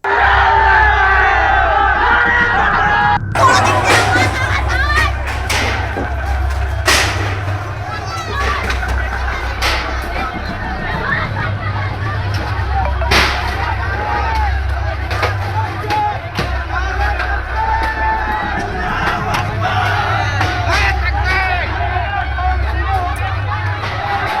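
An angry crowd in Asansol throws stones at a police outpost: loud shouting and clamor from many people, with sharp impacts and bangs scattered throughout, continuous and chaotic.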